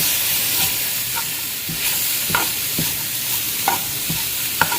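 Garlic frying in a pan for hamburger soup, a steady sizzle with a utensil scraping and stirring at irregular intervals, close and fairly loud, no voices.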